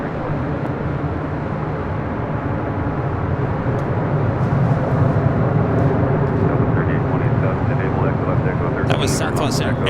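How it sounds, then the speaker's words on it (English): A Southwest Airlines Boeing 737 passes at LAX, a loud steady jet roar that holds and swells slightly across the whole span, with faint clicks near the end. "That was Southwest Airlines flight 3827 coming from Oakland, 737 at 700."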